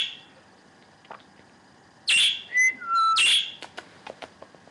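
Loud pet bird chirping and squawking indoors, with a couple of piercing calls in quick succession mid-clip, followed by several short, sharp chirps close by.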